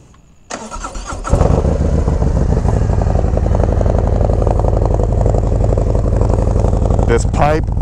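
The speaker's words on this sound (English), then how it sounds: "First, we'll let you guys hear the bike." A Harley-Davidson Road Glide motorcycle with a 2-into-1 chrome exhaust cranks and fires up, then settles into a loud, steady, close-up rumbling idle that keeps running throughout with no talking.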